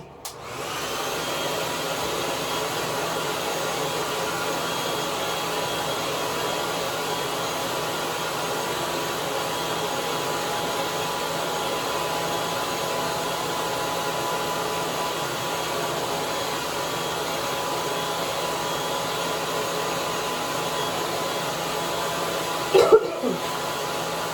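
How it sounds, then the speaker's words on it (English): A hair dryer blows steadily and loudly for the whole stretch, an even whooshing hum with a brief clatter near the end. "then I use the hairdryer to heat it up"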